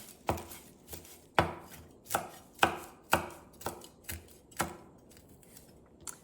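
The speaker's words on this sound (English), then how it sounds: "Some sage and some thyme. Just chop that roughly." Fresh sage and thyme chopped roughly with a knife on a board, about a dozen sharp, close thuds in an uneven rhythm, each with a short ring, no voices.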